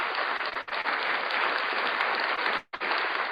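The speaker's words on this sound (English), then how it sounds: "give yourself a round of applause if you are in the playoffs" A group applauds steadily and loudly throughout, a dense wash of clapping with a brief dip near the end, at a fantasy football gathering.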